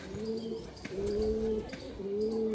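Pigeons cooing in low, rolling murmurs, two or three drawn-out coos in steady succession, close by with faint background chatter.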